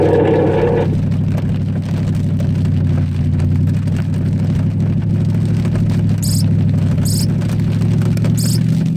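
A Cadillac STS-V accelerates hard on a wet race track in the rain, its engine droning loud and steady from inside the car with a low, rising roar throughout.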